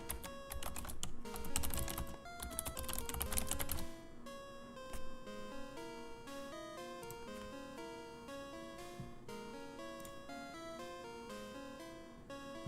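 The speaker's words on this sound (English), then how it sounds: "I know it's a very loud keyboard." Rapid, loud clacking of a computer keyboard being typed on continuously, heard over steady electronic game music from Pokemon Crystal.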